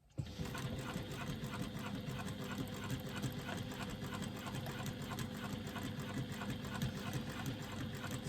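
A sewing machine top-stitches a clutch strap with a single strand of thread, running as a steady, close, continuous mechanical whir with a fine rapid rattle.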